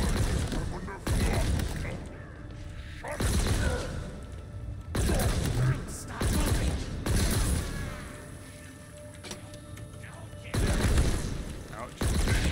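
Bursts of gunfire from a weapon in the Halo Infinite campaign, several loud volleys of rapid shots separated by brief lulls, with mechanical clatter in the gaps.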